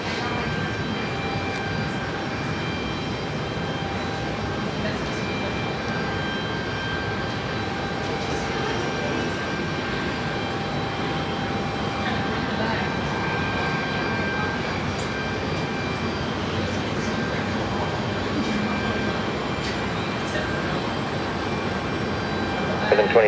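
A passenger airplane on its flight from Boise lands at Seattle-Tacoma airport, a steady broad engine roar holding at constant loudness throughout, with background voice chatter.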